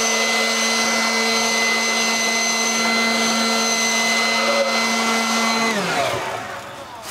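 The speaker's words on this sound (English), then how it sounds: "Get that blower and kind of blow it out a little bit." Air blower hissing steadily and loudly while blowing out the old engine of an abandoned 1957 Chevy Viking truck, a whining tone that winds down near the end.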